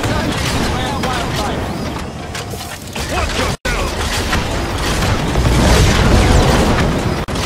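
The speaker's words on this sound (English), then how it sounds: "Dropping bombs on him." Bombs drop and explode in the Evolve monster-hunting game, a dense continuous wash of booms and bursts with a brief dropout midway, running loud and near under game noise.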